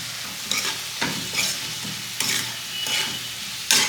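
Chicken and corn manchurian balls stir-fried in a pan, a steady loud sizzle broken by regular scraping swishes of a spoon about every half second, with no voices.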